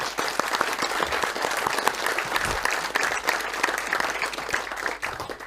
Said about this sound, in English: So let's give a big round of applause to Dr.